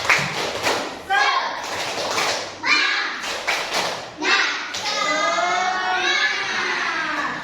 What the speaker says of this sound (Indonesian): kita tepuk semangat dulu ya sedikitnya. Tepuk semangat.